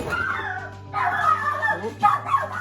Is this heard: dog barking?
yes